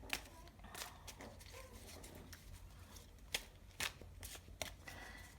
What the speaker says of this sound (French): Donc je vais mélanger donc ce tarot là.